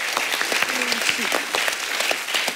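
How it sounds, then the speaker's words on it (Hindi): A studio audience on The Kapil Sharma Show claps in steady, dense applause, loud and sustained, with a voice briefly heard beneath. "तो इन दोनों के लिए जोरदार तालियां।"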